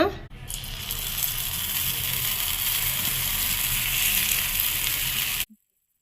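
Fermented corn paniyaram batter sizzling hard as it is poured into a hot pan, a loud steady hiss and crackle lasting about five seconds before cutting off abruptly, with a voice at the start.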